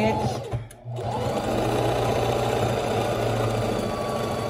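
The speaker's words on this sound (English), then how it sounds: "I did a straight stitch" A sewing machine runs a straight stitch with a steady, close mechanical hum and rapid needle chatter, briefly dipping near the start before continuing at an even, loud level.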